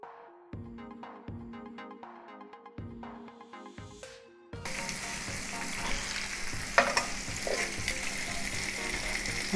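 Pieces of longaniza sausage fry in a dry pan with no oil, a steady loud sizzle and crackle taking over after a few seconds of softer intermittent sizzling, close and continuous with no talking.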